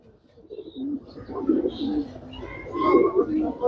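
A male racing pigeon coos softly at close range in a few low, rolling phrases, with other birds chirping faintly behind and a bit of quiet background noise.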